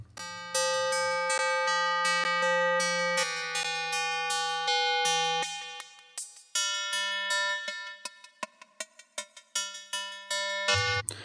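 A Serum synthesizer pad runs noise types through a resonant bandpass filter with a dotted-eighth delay, giving sustained tonal notes and rhythmic repeating plucked hits that shift pitch over the course.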